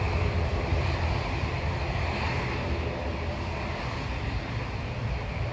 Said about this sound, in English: We've got an A321 taxiing out